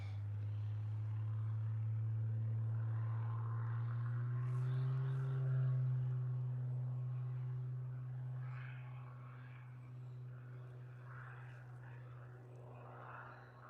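An airliner on its takeoff roll at Liverpool Airport, a steady low engine rumble with a strong tonal hum that builds, then fades as it moves away.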